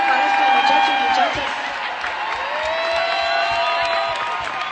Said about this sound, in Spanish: necesito un aplauso